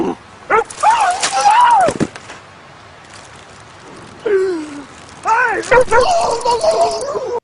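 A dog barks on command with whiny, yipping barks and drawn-out vocal whimpers in several bursts, close and loud, with a person speaking nearby.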